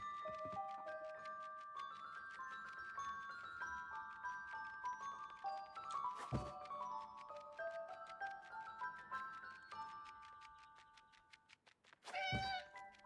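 A cat meows repeatedly in long, tonal, drawn-out cries, close and clear, with a sharp knock near the middle and a final rising meow at the end.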